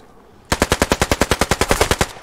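Machine gun fire in the World War II shooter game Post Scriptum: a loud, rapid burst of about fifteen evenly spaced shots after a short quiet lead-in, with no talk.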